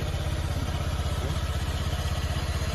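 A broken-down motorcycle runs roughly on the roadside, its engine chugging in fast, even, low pulses with a faint rattling clatter.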